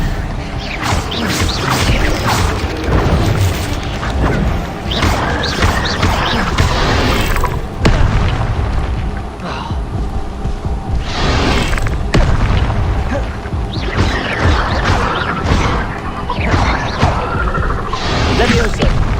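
Spell casting in the Hogwarts Legacy video game, with repeated booming magical blasts and impacts layered over dense, continuous game sound effects and music throughout.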